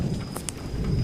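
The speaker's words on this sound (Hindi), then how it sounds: "बारिश इसी तरह से ही जारी रहती है" Heavy rain pours steadily in a cartoon, a dense continuous hiss with low rumbling underneath, broken by a couple of brief sharp crackles like thunder.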